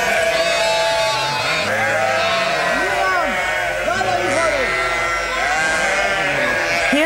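A flock of sheep bleats repeatedly, several overlapping calls rising and falling at close to medium range, with someone narrating over them.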